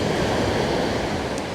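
Wind-driven surf at a Cancun beach in Mexico, with storm waves washing right up to the buildings. A dense, steady roar of water and gusting wind holds at constant loudness throughout, with no voices.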